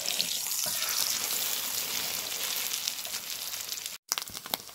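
Eggs frying in plenty of foaming oil over a wood fire outdoors, a steady close broadband sizzle running throughout, breaking briefly near the end before resuming with a few louder pops.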